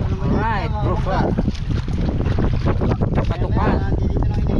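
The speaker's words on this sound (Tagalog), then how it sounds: "Medyo malakas ang hangin" Strong wind buffeting the microphone on a small fishing boat at sea, a loud continuous rumble and roar with people talking over it.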